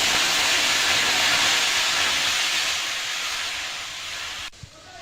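Water heating in a kadai (wok) for rice-flour payesh gives a loud, steady, close hiss that fades slightly and then cuts off abruptly near the end.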